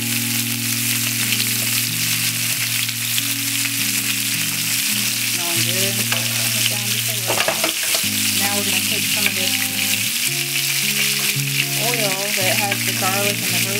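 Lamb sizzling steadily as it pan-sears in oil and butter after being flipped, a loud continuous frying hiss with occasional clinks and stirring noises and a faint background hum throughout.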